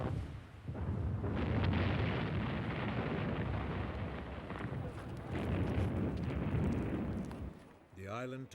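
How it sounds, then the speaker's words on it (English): Wartime bombing raid on Malta by German aircraft, a continuous loud roar of explosions and rumbling blasts filling several seconds, easing off near the end. "In early 1941, the Luftwaffe bombed Malta."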